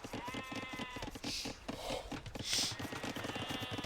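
Sheep bleating in the strategy game Age of Empires II, a short bleat standing out over a busy backdrop of game sounds and music.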